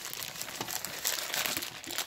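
Crinkly plastic bag from an Amazon package being handled and unwrapped, a steady close rustle with small crackling bursts throughout, no talking.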